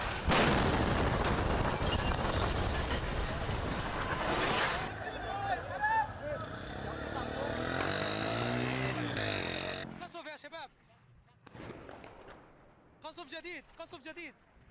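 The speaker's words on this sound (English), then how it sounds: "A little video I'm going to share with you of the bombing of Damascus." Heavy bombing explosions during an attack on Damascus rumble and roar loudly for about ten seconds, followed by quieter stretches with people talking and shouting.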